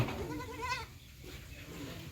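A goat gives one wavering bleat at close range outdoors during a storm with rain and hail, followed by quieter background noise.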